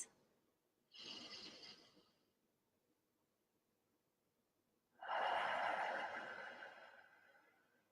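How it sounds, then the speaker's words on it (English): Two deep breaths, each drawn in through the nose and let out through the mouth during a relaxation exercise: a short airy inhale, a pause, then a longer, louder rushing exhale, close and with no talking. "You're going to breathe in through your nose and out through your mouth. Nice, big, deep breaths."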